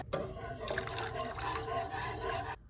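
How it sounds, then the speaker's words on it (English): Vegetable broth poured into a cooking pot for broccoli cheese soup, a steady close splashing pour of liquid lasting a couple of seconds, with no voices. "We want to add 2 cups of vegetable broth."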